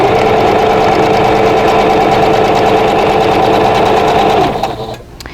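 A sewing machine runs steadily and loud as it stitches quilt block pieces for a vintage Broken Wheel pattern, its rapid needle chatter continuous for several seconds before slowing and stopping near the end.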